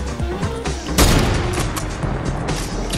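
Rapid drum gun fire in a Fortnite match: dense bursts of loud gunshots start about a second in and keep up a steady automatic rattle, with booming hits mixed in throughout.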